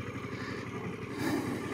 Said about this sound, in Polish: dźwięk silnika jest taki fajny